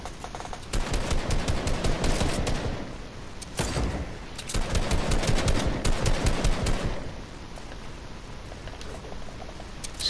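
Rapid automatic gunfire in a Fortnite-style battle royale video game, shots aimed at a big tree, coming in two long sustained bursts with a short pause between, loud and close, followed by quieter game ambience.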